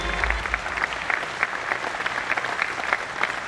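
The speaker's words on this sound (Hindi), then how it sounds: "एक बार जोरदार खड़े होकर के ताली बजाइए माननीय श्री शैलेश तिवारी जी के लिए" A crowd at a distributor training programme claps steadily and fairly softly, giving a standing ovation for an honoured guest, the dense applause continuing evenly throughout with little talk.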